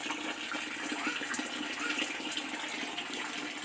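Tap water runs steadily and close by while dishes are washed by hand, a continuous splashing hiss with no pauses.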